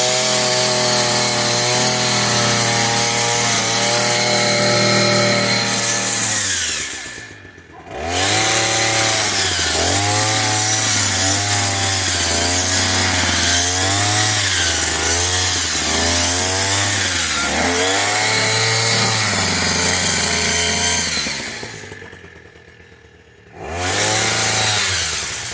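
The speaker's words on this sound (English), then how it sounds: "So I kind of like the PROYAMA hedge trimmer." A PROYAMA 42.7cc petrol multi-tool hedge trimmer runs loud and close, its two-stroke engine droning and rising and falling with the throttle, cutting out twice briefly before restarting.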